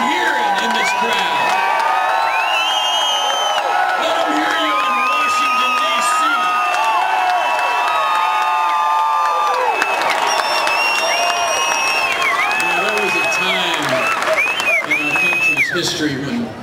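A large Tea Party rally crowd in Fort Worth, Texas cheers, whoops and applauds continuously, loud and close, with shouting voices and whistles rising above the roar throughout.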